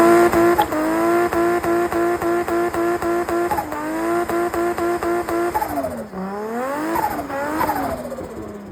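Turbocharged Toyota IS200 running at home on a 1JZ-injector setup, revving hard in rapid repeated bursts that rise and fall, then swooping through higher revs near the end; loud and close, with no talking.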